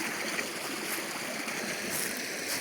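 A lively stream in December, the main water source for farm animals, flows steadily with broadband rushing and babbling water, close and continuous, with no voices.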